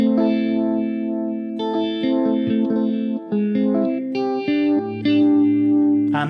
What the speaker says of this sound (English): Particularly, I have a Univibe sound.